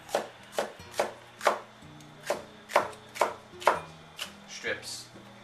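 A knife slicing a red bell pepper into strips on a cutting board, about a dozen crisp evenly spaced chops at close range, with faint background music.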